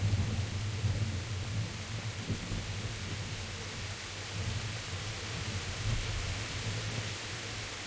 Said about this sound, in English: So we're just walking in the rain.